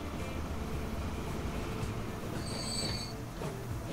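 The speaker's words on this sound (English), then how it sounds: "the train's actually coming through" A train rumbles steadily through in the Transport Fever railway game, with a faint high metallic wheel squeal partway through, moderately loud and continuous with no talk.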